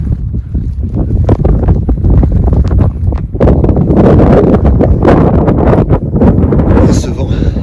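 Strong blizzard wind roars and buffets a microphone outdoors amid heavy snowfall in the Auvergne mountains near a train station, a loud, continuous gusting rumble with sharp bursts throughout.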